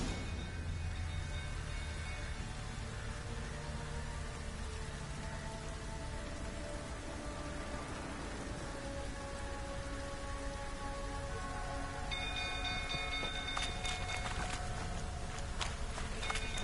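Rain falling in The Witcher 3: Wild Hunt, a steady, soft patter across the whole stretch, with faint tonal background sounds and a few brighter clicks near the end.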